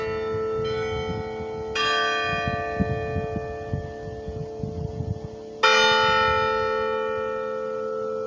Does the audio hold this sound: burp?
no